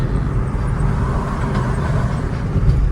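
A car cruising on a long highway road trip gives a steady, close road-and-engine rumble with tire hum, continuous and even, with no voices over it.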